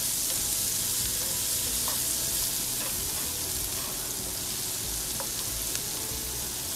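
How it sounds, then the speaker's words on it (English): Finely chopped onion and garlic sautéing in a pan until translucent, a steady close sizzle with faint scattered pops and a few stirring clicks, no voices. "Saute that until it becomes translucent."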